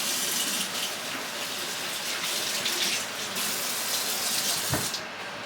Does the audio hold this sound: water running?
yes